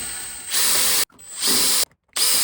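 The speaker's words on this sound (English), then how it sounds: "Now I can drill the hole" A power drill boring a 4 mm hole to mount a Thule slide-out electric step whirs in two short bursts, spinning up to a high whine each time before cutting off abruptly, with brief silence between.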